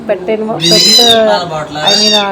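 A cat meows loudly and close by, several drawn-out high-pitched cries in quick succession with short breaks between them.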